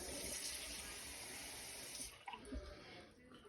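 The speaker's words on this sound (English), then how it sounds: "we're going to do 1 1/2 cups of beef stock and then 1/2 cup of water" Beef stock and water are poured into a cooking pot for a Swiss chard and oyster mushroom ravioli broth. The liquid splashes in a steady, soft stream that thins out and ends in a few faint drips.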